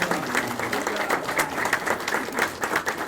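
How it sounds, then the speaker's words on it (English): Audience at a Tucson Comic Con panel with the original Teenage Mutant Ninja Turtles cast breaks into sustained applause, a dense roomful of clapping that holds steady for a few seconds with some voices mixed in. "Can we give him a round of applause?"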